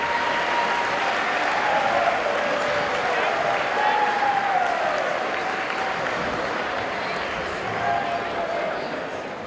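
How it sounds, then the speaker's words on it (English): Crowd in a school gym claps for seniors at a boys' basketball game, sustained applause with some cheering voices mixed in, holding steady before easing slightly at the end. "can we get a round of applause for all our seniors this year"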